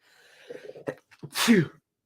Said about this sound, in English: I'm having a sneeze attack on stream